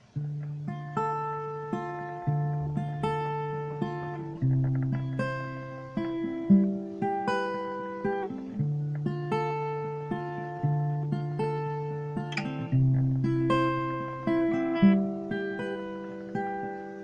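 Acoustic guitar plays the chord progression of the second bridge of a song, steady strummed and picked chords ringing alone and clear, close up with no voice.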